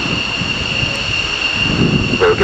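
Four F-15 fighter jets departing RAF Mildenhall produce a steady, loud roar with broadband rumble and a persistent high whine, swelling slightly toward the end.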